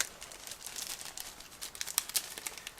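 A clear plastic bag holding a 1/144 scale model kit's plastic sprues is opened and handled, giving close, soft crinkling and rustling with scattered sharper crackles, fairly quiet and without talk.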